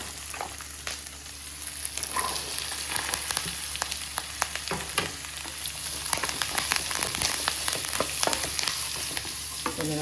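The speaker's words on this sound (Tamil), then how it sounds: "வெங்காயத்தை போட்டு கொஞ்சம் நல்லா வதக்கிட்டு" Onions and curry leaves sautéing in a pan, giving a steady frying sizzle broken by frequent scraping stir strokes close by, with no talking.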